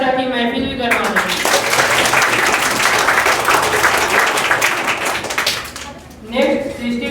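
Audience applause at a school Republic Day celebration, a loud, dense burst of clapping from a large crowd that holds steady for several seconds, then dies away as a voice starts talking.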